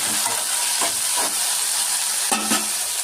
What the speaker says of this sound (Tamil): தக்காளியை போட்டு ஒரு 2 நிமிஷம் நல்லா வதக்கிக்கலாம்.